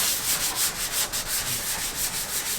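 Car primer is wet-sanded by hand on a Miata, a rhythmic back-and-forth rubbing swish repeating about four times a second, close and steady with no talk.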